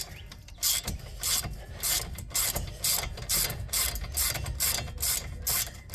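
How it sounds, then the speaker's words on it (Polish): Ratchet wrench loosening a bolt on a Mazda 6 GJ control arm, with rapid repeated clicking strokes in bursts, close and loud with no talking. "Odkręcić tą śrubę."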